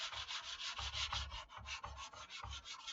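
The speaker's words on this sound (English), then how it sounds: "So we're just going to keep sanding with the block" A sanding block rubs across a foam surfboard repair in steady back-and-forth strokes, a rhythmic, fairly soft scratching rasp close by with no talking.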